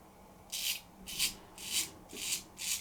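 Five rhythmic scraping strokes of a Guillermo Hoppe 14 straight razor across stubble, each a short bright rasp with brief pauses between, close and fairly loud.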